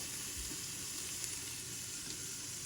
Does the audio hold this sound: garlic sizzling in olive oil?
yes